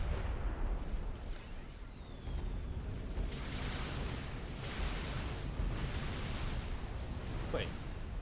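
Summit battleship artillery shells firing in a strategy video game, a steady rumbling barrage of booms and bursts rolling on throughout under continuous background noise, with a voice talking over it.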